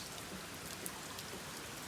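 Steady rain falls across a house's backyard and front yard ahead of an approaching squall line, a soft continuous hiss with scattered drop patters, faint and unbroken throughout.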